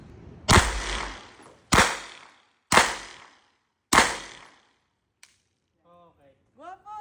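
Four loud, sharp gunshots ring out at a firing range in Marikina, evenly spaced about a second apart with short decaying echoes, followed by quiet and a few faint voices.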